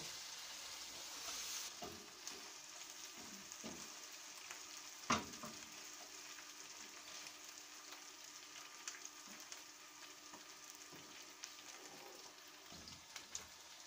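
Slit green chillies simmer with spice paste and a splash of water for wedding-style chicken roast, giving a faint, steady bubbling sizzle with scattered light ticks and a sharp clink near the start.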